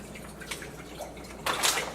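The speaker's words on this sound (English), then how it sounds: "take some purified water," Purified water pours into a pan with a steady splashing trickle, which swells louder near the end of the pour, set in a home kitchen before smoking a pork butt.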